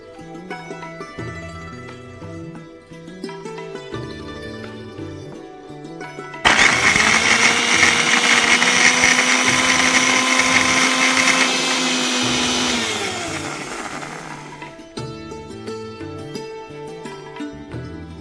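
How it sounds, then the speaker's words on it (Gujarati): A blender roars steadily for about six seconds, grinding soaked, peeled almonds with milk into a fine paste, its whine loud and continuous before cutting off, with background music playing throughout. "હવે આની ફાઇન પેસ્ટ બનાવવાની છે દૂધ નાખીને."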